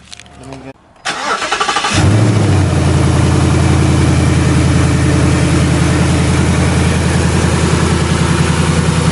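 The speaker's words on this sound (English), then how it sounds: "Go ahead and give her a quick crank to make sure everything is good." A Ford Mustang engine cranks and catches after an oil change, then settles into a loud, steady idle that runs on without a break, with a brief voice underneath at the start.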